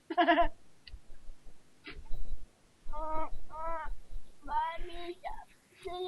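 Sheep in Minecraft 1.5.2 (Hexxit modpack) bleat in several short, wavering cries separated by brief pauses, fairly close and clear against a quiet background.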